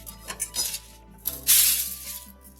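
Garlic cloves tossed onto a sheet of aluminum foil while making baba ganoush, giving a few light crinkles and taps followed by a louder, brief rustle of foil near the mic.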